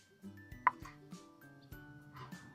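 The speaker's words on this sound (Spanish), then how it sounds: "vamos a empezar primero picando las salchichas" A knife chops sausages into rounds on a cutting board in several quiet, irregular knocks, with soft background music.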